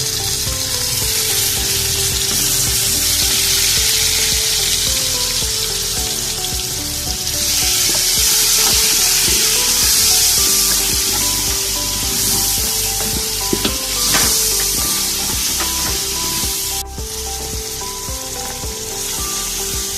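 Tomatoes going into a hot pan while cooking Punjabi kadhi pakora, sizzling loudly and steadily throughout with bursts of crackling and stirring, no voices.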